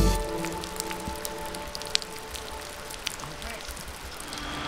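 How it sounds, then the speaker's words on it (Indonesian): Light drizzle patters steadily on a mountain trail at Gunung Binaiya in Maluku, a dense hiss of fine drops with scattered sharper taps. "sementara rintik gerimis menghiasi sore"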